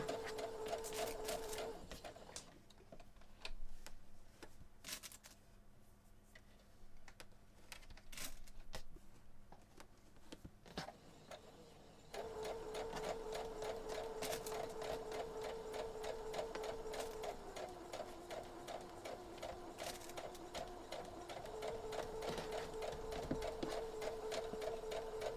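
A sewing machine stitching T-shirt pieces for a quilt runs in a steady, whirring mechanical rhythm. It pauses for about ten seconds, then resumes in a long continuous run, fairly faint and close.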